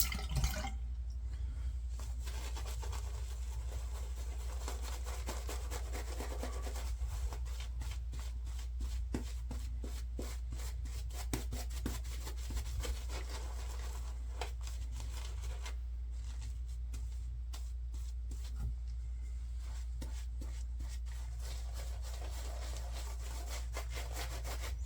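A gigantic shaving brush knot works Green Goddess Herbals Scruffy Goat shave soap into lather, giving a steady, close wet swishing and scrubbing with rapid repeated strokes that continue throughout without talk.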